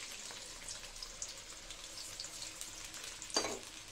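A water-thinned paste of ground cumin, coriander, chili, salt and turmeric sizzles quietly in a hot pan, a soft steady crackle with one brief louder hiss near the end, no talking.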